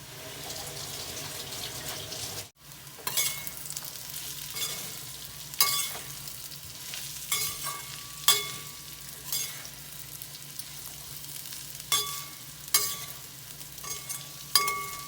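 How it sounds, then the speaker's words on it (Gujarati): A cashew and bitter gourd curry with amchur powder sizzles softly in the pan while a spoon stirs and scrapes it, with scattered light clinks over a steady low frying hiss. "ખટાશ માટે આમચૂર પાવડર નાખીશું અને સરસ મિક્સ કરીશું"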